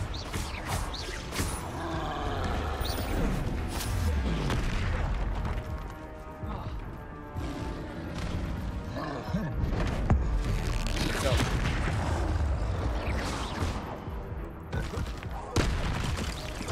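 Spell combat in the Hogwarts Legacy video game, a dense and continuous run of blasts, booms and crashes layered with game effects, while a person shouts over the action.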